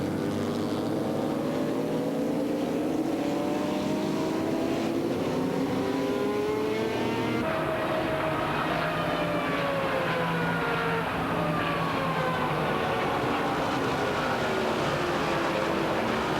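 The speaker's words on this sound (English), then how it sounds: "This massive 80-car field still wending its way around the first lap." Race car engines roar steadily around the Daytona track on the first lap of the 1997 24-hour race, an 80-car field passing with rising and falling whines, loud and continuous with no talking.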